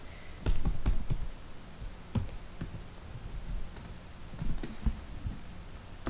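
Someone types a search on a computer keyboard, producing scattered, close, crisp key clicks in short bursts with pauses between them.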